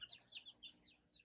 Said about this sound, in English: if you hear some clucking in the background, it's just because I've got some baby chicks in here